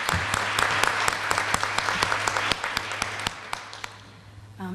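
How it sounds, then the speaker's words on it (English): Applause at a mentor appreciation awards dinner honoring Mr. Lawrence, a dense wash of clapping from a roomful of guests that holds steady and then thins out near the end, with a steady low hum underneath. "I would like to give a round of applause to Mr."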